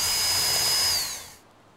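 A power drill drives screws into the flashing of a solar attic fan on a roof, giving one close, steady high-pitched whine that holds for about a second before the motor spins down and stops.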